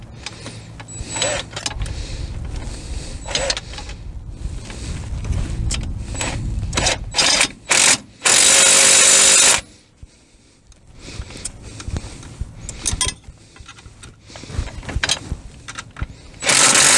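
Power tool whirring in short bursts while tightening front shock bolts on a Jeep XJ, loud and close, with a longer burst near the middle and other shop noise between.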